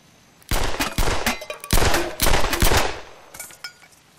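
Rapid bursts of gunfire at a shooting range, several loud close shots fired in quick clusters with short pauses between them, then a few fainter shots trailing off.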